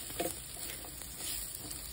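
Carrots and bell pepper sizzle in a pan while being stirred for sweet and sour fish, a brief, fairly faint steady hiss with a couple of soft utensil knocks.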